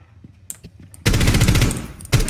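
Gunfire in Rainbow Six Siege: a loud sustained burst of automatic fire after a second of quiet scattered sounds, then a final sharp shot at the end.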